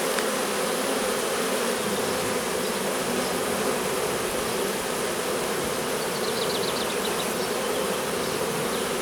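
Dense, steady buzzing of a honeybee swarm entering a hive, a loud continuous drone filling the whole stretch with no voices.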